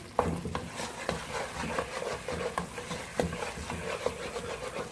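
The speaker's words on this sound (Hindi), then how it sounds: "चम्मच चलाते जाएंगे, अच्छी तरह से मिक्स करेंगे।" A spoon stirs thick chana dal halwa with ghee, almonds, pistachios, raisins and coconut in a pan, making soft rhythmic scrapes and knocks over a faint sizzle, close by and quiet, with no speech.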